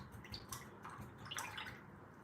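A paintbrush is rinsed in water during acrylic painting, giving soft close splashing and dripping sounds, faint and with no talking.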